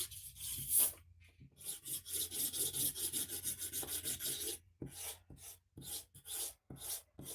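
An eraser rubs out pencil marks on paper over a slightly wobbly table, giving repeated raspy back-and-forth strokes in short bursts with brief pauses between them, close and fairly quiet with no talking.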